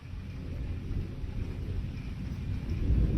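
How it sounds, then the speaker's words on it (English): A low, rolling rumble of distant thunder swells gradually during a storm with tornado warnings, with a steady outdoor hiss and no voices. "we got a little thunder and lightning"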